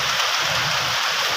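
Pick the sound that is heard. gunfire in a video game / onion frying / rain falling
rain falling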